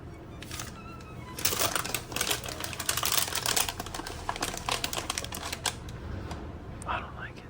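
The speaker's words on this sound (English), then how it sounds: "I don't like the sound of parchment paper being folded and stuff." Parchment paper being folded and handled in a home kitchen during baking, giving a run of close crinkling, crackling rustles with sharp papery bursts, some speech faintly in the background.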